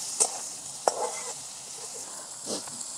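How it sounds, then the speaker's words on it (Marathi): Onion, curry leaves, cumin, mustard seeds and green chili sauté in a pan for jowar khichdi, with a soft continuous sizzle broken by a few sharp stirring scrapes and clinks close by. "कढीपत्ता, कांदा, जिरे, मोहरी, हिरवी मिरची टाकलेला आहे। आता चांगलं परतून घेत आहेत।"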